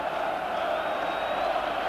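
A football stadium crowd of about 40,000 at a Rangers versus Hearts match murmurs and roars in a steady, dense wash of distant voices.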